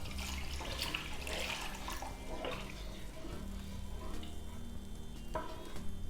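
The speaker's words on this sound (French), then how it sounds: "Là, tu vois que les noix de palme sont en ébullition." Palm nuts boil in a pot of water, giving a steady bubbling, seething roar with small pops and clinks throughout, close and continuous, with no talking.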